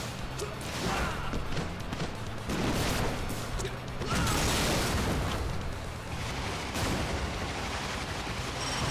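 Heavy booming blasts and mechanical clanking from a giant tank boss fight in the video game Double Dragon Neon, dense and continuous across the whole stretch, loud and close, with no talk.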